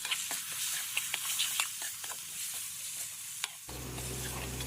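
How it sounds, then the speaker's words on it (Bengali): Spice masala frying in a pan crackles and sizzles while a utensil scrapes and stirs in quick repeated strokes, close and quiet, before a low steady hum takes over near the end. "এই মশলাটা দুবার নেড়ে চেড়ে নেবো।"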